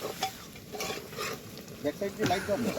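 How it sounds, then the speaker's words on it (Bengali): Onion, chilli, ginger and garlic being stirred and fried in a pan, a quiet sizzle with scraping strokes of a utensil, a few clinks, and faint talk nearby. "এই যে রান্না চলছে"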